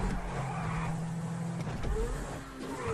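Grotti Cheetah sports car in GTA, fully upgraded, running on a test track: a steady engine drone and road rumble with a brief whine of revving near the end, with no talk.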